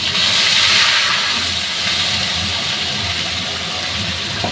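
Onion paste masala poured into hot oil with whole cumin for a fish kalia, a loud, close, continuous hissing sizzle that swells at first and then settles into a steady roar.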